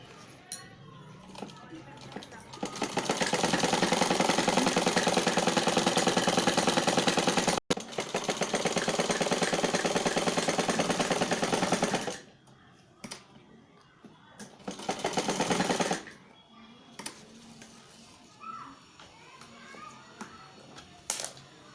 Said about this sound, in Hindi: इस तरह से फोल्ड करके हम पूरी गोलाई चारों तरफ सिलाई मार लेंगे